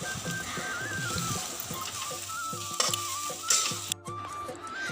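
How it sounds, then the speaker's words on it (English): Coconut and jaggery stir-fried in a pan, with steady scraping stirs and a light sizzle running throughout, a few louder clatters near the end, and a faint whistle-like tone in the background. "Now it's time to stir fry the ingredient like coconut and some jaggery"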